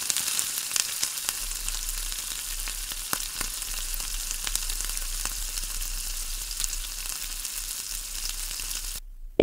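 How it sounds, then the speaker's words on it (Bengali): Chopped onions hit hot mustard oil in a wok, giving a steady, close sizzling hiss that runs almost the whole time, with no voices, then cuts off abruptly at the end. "তেল গরম হয়ে গেছে, এবার দিয়ে দিলাম কড়াইতে।"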